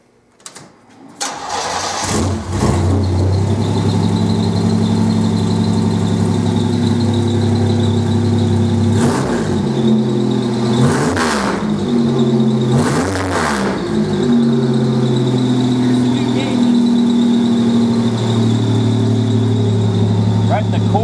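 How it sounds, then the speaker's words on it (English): A 1987 Buick engine cranks and fires up, then settles into a steady, rumbling idle, with a few sharp revs blipped in the middle before it drops back to idle; a person speaks briefly near the engine. "I'll fire the engine up"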